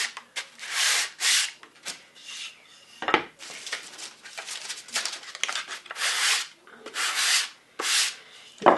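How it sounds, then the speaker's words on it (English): Wood being sanded by hand with 320 grit sandpaper on a natural-edge tabletop, a close series of rhythmic rubbing strokes with short pauses between passes. "Doesn't take very much sanding at all."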